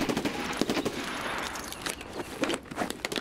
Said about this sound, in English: Let's give him some suppressing fire. Keep his head down.